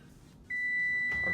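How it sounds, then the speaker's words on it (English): Kitchen timer going off during home cooking of an Irish fisherman's pie: a single sustained electronic beep starts abruptly and holds steadily, close and clear. "timer just went off,"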